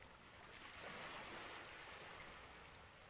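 Ocean waves wash on a shore in a soft, continuous rushing surf, faint and steady with a gentle swell, no voices.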